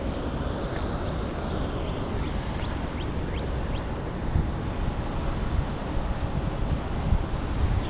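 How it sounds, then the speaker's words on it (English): Birds calling outdoors in a few brief chirps, partly buried under a steady, loud rush of wind buffeting the microphone. "we're going to be listening to the sounds of birds"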